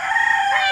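A rooster crows on a homestead, one loud, close, strained call held steady for under a second with no other sounds.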